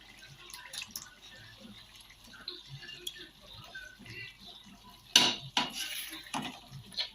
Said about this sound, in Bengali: এখন আমি এর মধ্যে পনিরগুলো দিয়ে দিব।